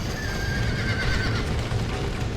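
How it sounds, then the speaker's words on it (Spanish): A horse in Red Dead Redemption gives a loud, sustained whinny lasting a couple of seconds, set against a dense, steady bed of game ambience and background noise. "Stop that dumb horse."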